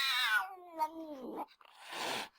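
A cat gives a drawn-out, wavering yowl up close, followed by a short breathy hiss.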